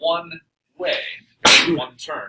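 A single sharp sneeze bursts out in a classroom amid a teacher's geometry talk, loud and close between spoken phrases.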